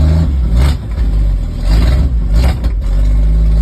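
A 1978 Dodge D100 truck engine, fed fuel sprayed into the carburetor, roars and revs, surging up and down in loudness with a steady heavy rumble underneath, close by.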